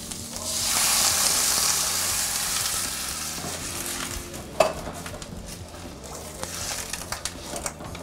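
Vegetables, including beetroot and apple, sauté in a pan with a loud, steady sizzle that swells early, followed by a few sharp utensil clinks and scrapes as they are stirred near the end.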